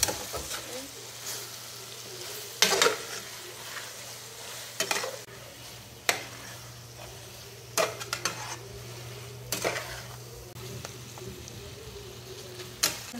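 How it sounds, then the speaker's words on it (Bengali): Beef noodles with tomato and oyster sauce are stirred in a pan, soft frying hiss under repeated sharp clanks and scrapes of a utensil against metal, spaced irregularly over a low steady hum. "এখন এটাকে আবার নাড়াচাড়া করে নেবো।"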